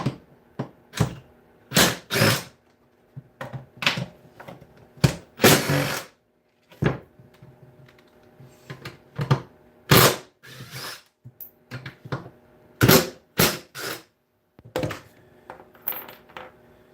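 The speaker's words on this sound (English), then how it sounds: "Taking the blower fan out. throwing screws on the floor." Small metal screws from a removed blower fan drop and clatter on a hard floor in repeated sharp bursts, close and loud, separated by quiet gaps.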